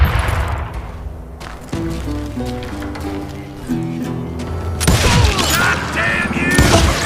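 Western-style gunfire in the video game Call of Juarez Gunslinger, with loud broadband shots and bursts in the second half over an ongoing music score and game sound.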